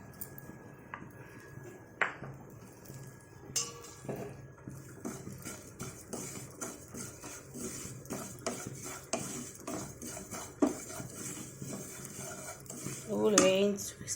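Sesame seeds dry-roasting in a pan in a Telugu home kitchen, with a metal spoon scraping and clinking against the pan in irregular taps and strokes, fairly quiet and close.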